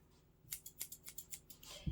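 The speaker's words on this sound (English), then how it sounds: "So, I'm going to take my scissors" Scissors snip through a tassel in a rapid run of about eight sharp, close metallic cuts, followed by a soft thump at the end.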